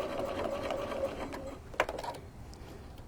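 A sewing machine stitching a holiday bench pillow cover runs in a fast, steady whir for about a second and a half, then stops, followed by a sharp click and a few light mechanical taps.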